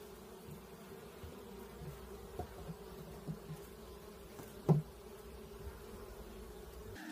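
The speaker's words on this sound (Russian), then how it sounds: "Пчелка еще по привычке лечит сюда свой домик." Honey bees buzz around their hive while being moved into a new one: a steady low hum fills the scene, with occasional louder buzzes as single bees pass close by. No one speaks.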